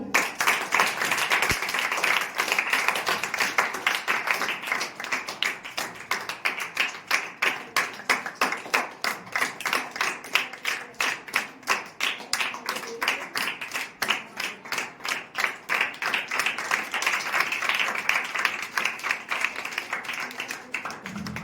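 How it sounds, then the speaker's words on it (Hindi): Sustained applause from an audience at a school farewell and inauguration ceremony, steady rhythmic clapping that carries on for about twenty seconds at even, moderate loudness. "तालियां बजाते रहिए।"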